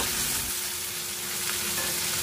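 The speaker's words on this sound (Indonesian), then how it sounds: "Lalu kita goreng setengah matang." Steady, dense sizzling of chicken pieces frying in hot oil, a constant crackling hiss with no voices.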